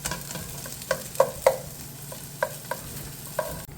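Onions sautéing in a pan for faux pasties: a soft continuous sizzle with several sharp spoon clacks and scrapes as they are stirred, close and alone.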